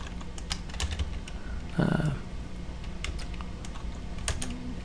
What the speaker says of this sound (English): So down here we can just type our content.